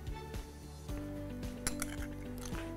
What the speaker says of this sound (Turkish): Şuradan bir tane kaşık alayım.